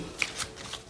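Tarot cards handled and shuffled during a reading: a few quick papery riffles and soft slaps, close and quiet, with no talk.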